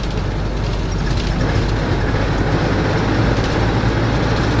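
Steady broadband rumble of a city bus driving through Bandar Seri Begawan, Brunei, heard from inside, a continuous low drone of engine and road noise with no talking.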